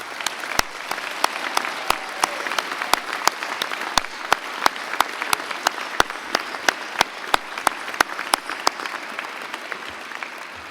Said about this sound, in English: they deserve, as well as you, a warm round of applause